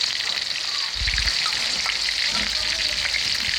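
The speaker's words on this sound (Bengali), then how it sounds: "পেঁয়াজ মরিচ একসঙ্গে ভালো করে বাটার পর এগুলো এই গরম তেলে ছেড়ে দিলাম।" Ground onion, garlic and chili paste sizzling in hot oil for a village-style Bengali fish curry, a loud continuous frying hiss with small pops and crackles close by, no speech over it.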